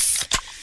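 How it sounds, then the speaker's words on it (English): A fizzy Pepsi being freshly opened gives a quick, close spray-like hiss burst that fades fast, with no talk over it. "that's the sound of a freshly opened fizz-filled Pepsi."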